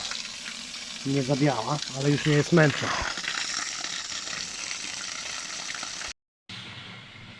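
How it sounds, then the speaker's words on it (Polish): Water gushes out of a leaking 180-litre aquarium in a steady rushing wash, with a voice speaking briefly over it before the sound cuts out for a moment and then resumes. "Wylewam wodę do zewnątrz."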